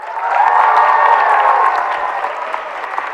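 A live audience at an improv talk breaks into applause and cheering, a dense, loud burst of clapping that swells quickly and then slowly fades.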